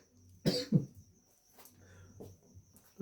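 A man coughs twice in quick succession at close range, hoarse and throaty, followed by a softer cough and a faint throat-clear in an otherwise quiet room.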